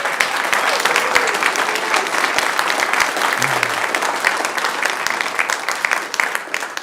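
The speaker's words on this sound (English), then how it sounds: "Give yourself a round of applause." A church congregation clapping at a 25th anniversary service, a dense, sustained round of applause filling the hall at steady loudness with a brief low murmur partway through.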